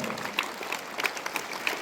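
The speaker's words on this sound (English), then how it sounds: "I request everyone here today present in this assembly to give round of applause once again to Master Champion, the wonderful Mitchell J" A school assembly audience gives a round of applause, dense steady clapping filling the hall for a couple of seconds with a few sharper claps standing out.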